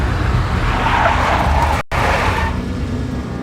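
Big black Mercedes in the Max Payne video game skidding with loud tire squeal and engine roar, close and continuous, briefly cut by a split-second dropout midway before the screech carries on and slowly fades.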